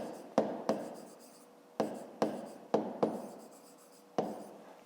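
Pen strokes on a notebook page during a fifth-grade math exercise: short scratchy bursts of handwriting, about eight quick strokes with brief gaps, close and quiet, no talking.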